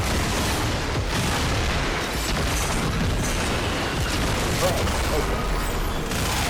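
Dense, rapid gunfire and booming weapon blasts from enemies being shot in the Warframe video game, using Banshee Prime, continuous and loud throughout, with a brief spoken word.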